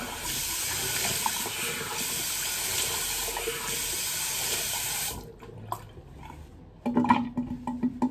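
A faucet runs fresh water in a steady, loud hiss for about five seconds as a face is rinsed after shaving, then cuts off, leaving small splashes and drips.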